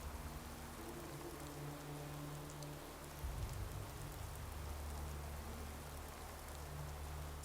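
Rain falls in Fallout 4, a steady soft hiss of drops spread evenly and unbroken, with a low hum running underneath and a slight low rumble partway through.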